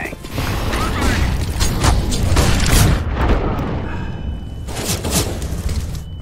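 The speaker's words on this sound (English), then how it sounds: "Flashbang" A flashbang grenade goes off in CS:GO, a loud close burst followed by rumbling debris and mechanical clatter, with faint voices underneath.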